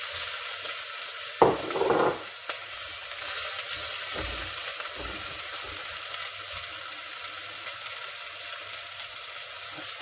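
Onions and garlic sizzle and fry steadily on a big burner, a continuous bright hiss with a few stirring scrapes and knocks near the start.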